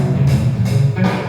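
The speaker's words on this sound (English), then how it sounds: "Let's start with like a funky groove" A funky groove loop of bass and drums with a punchy, repeating rhythm, loud and close, with no voices over it.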